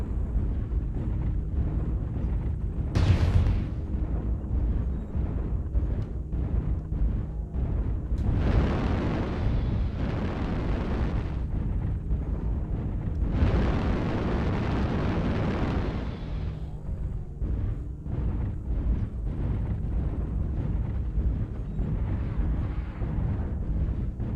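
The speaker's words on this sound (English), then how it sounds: "Artillery strike online." Artillery strike explosions in a video game, heavy low rumbling bursts with broad roaring blasts spread across the clip, one sharp crack early on, no voices.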